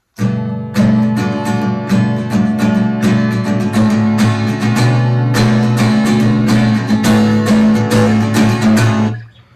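Strummed guitar chords ring out loud and close, with quick plucked notes from index-finger hammer-offs woven between strums, ending with a fade.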